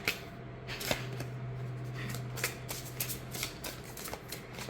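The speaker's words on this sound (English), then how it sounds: "Can also side shuffle." A deck of Zombie Tarot cards is side shuffled by hand, giving a steady, close run of soft papery slides and light flicks with a faint low hum underneath.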